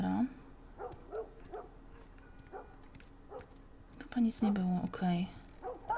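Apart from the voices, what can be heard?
dog barking and whimpering in The Last of Us Remastered video game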